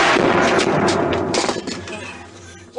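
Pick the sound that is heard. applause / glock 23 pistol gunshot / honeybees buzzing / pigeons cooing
glock 23 pistol gunshot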